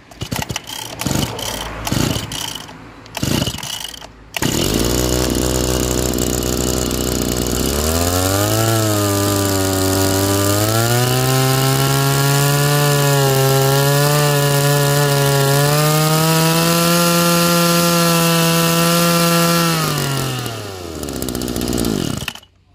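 A used Japanese G12 brush cutter starts after a few rough pulls, then its two-stroke engine runs loud and close, revving up and holding a high buzzing whine for about fifteen seconds before cutting out.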